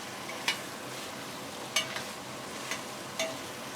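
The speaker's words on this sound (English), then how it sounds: "It's time to add the venison pieces into the pot. Fry them on high flame for a few minutes." Venison pieces frying with spices in a pot over a high flame, a soft continuous sizzle broken by a few sharp stirring clinks and scrapes, close by and without talk.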